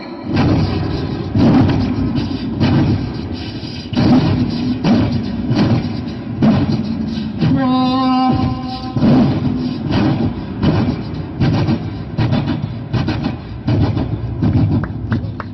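On a comedy stage show, a voice imitates a passing train: steady rhythmic clattering of wheels over rails, loud and close, with a brief horn-like wail midway.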